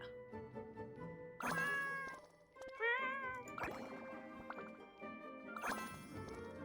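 A cat meows several times while being petted, drawn-out calls mixed with light jingling tones and game-like chimes, fairly clear and with no talking.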